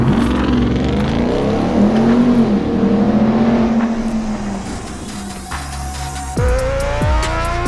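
A 2021 RAM TRX supercharged pickup drives hard, its engine loud and steady with a droning rise and fall of revs, then a sharp shift near the end as the pitch sweeps up again under constant road and wind noise.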